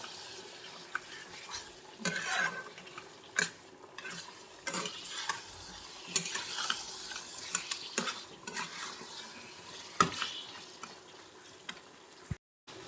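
Meat being sautéed and stirred in oil in a pan, a steady close sizzle with repeated scraping and clinking of a spatula against the pan.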